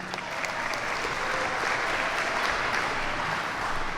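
Audience at a youth budget engagement event applauding steadily, dense even clapping from a crowd in an indoor hall lasting throughout without a break.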